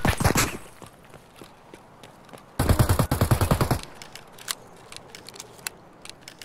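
Video-game gunfire from hostile scavs: a few sharp shots, then a loud, rapid automatic burst of evenly spaced rounds lasting about a second, followed by scattered fainter single shots and clicks.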